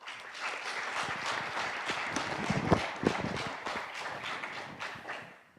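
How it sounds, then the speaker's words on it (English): A crowd applauds steadily, dense clapping holding for several seconds before tapering off at the end. "So a round of applause for them, please."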